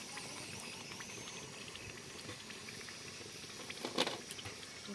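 Potato french fries frying in hot oil in a wok, a steady faint sizzling patter and bubbling throughout, with a brief louder crackle near the end.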